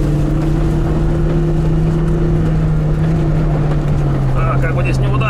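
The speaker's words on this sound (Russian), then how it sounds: "Газ в пол давлю на второй." A Lada Niva engine is revved hard with the throttle floored in second gear, a loud, steady low drone with sustained harmonic tones and rough broadband noise throughout, close to the microphone.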